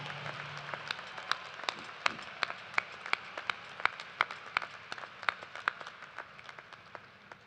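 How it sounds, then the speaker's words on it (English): Applause for the staff at a university graduate commencement ceremony, distinct individual claps ringing out in a fairly sparse, moderately distant pattern over a low murmur, fading slightly toward the end. "Let's give a round of applause to everyone who helped make this a celebration to remember"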